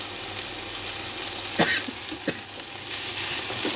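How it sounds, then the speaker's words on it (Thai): Fiddlehead ferns stir-fried in oil in a pan give a steady close sizzle, broken by a couple of sharper scrapes and clatters from stirring. "เวลาผัดก็ยีๆแบบนี้นะคะ"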